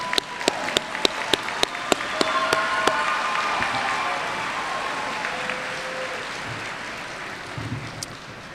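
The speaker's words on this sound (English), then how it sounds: "please stand and show your appreciation for all these people and applaud your family members" An audience at a health professions graduation commencement applauds steadily, with dense sustained clapping from a large crowd and a few sharper individual claps standing out early on, all without talk.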